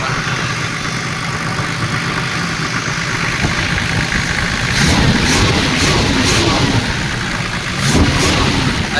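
A Toyota Land Cruiser 70 series engine, just repaired after refusing to start, runs at a steady idle throughout, with a couple of brief louder revs near the end and no talk over it.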